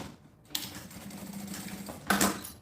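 A sewing machine stitches back and forth with a backstitch on a handle strap of a school bag, a faint steady mechanical whir with a brief louder burst near the end.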